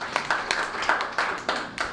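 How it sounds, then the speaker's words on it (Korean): An audience at an academic seminar on Korean food claps in sparse, separate hand claps, each sharp and distinct rather than a dense roar, lasting about two seconds. "뜨거운 박수 부탁드리겠습니다."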